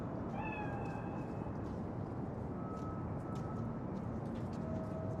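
A cat meows a few times in Cyberpunk 2077, a moderately loud, drawn-out cry early on, then fainter tonal calls over a steady ambient background.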